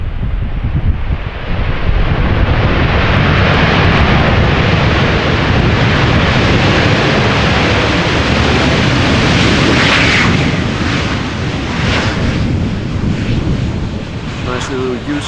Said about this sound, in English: Nice little use of the reversers there.